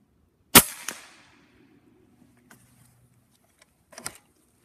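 A Wicked Air Rifles .30 caliber Flex PCP air rifle fires a shot on an outdoor range with a sharp, loud crack, then a second, softer report a few seconds later, with quiet gaps in between.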